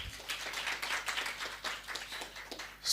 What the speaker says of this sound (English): Another clap, another clap.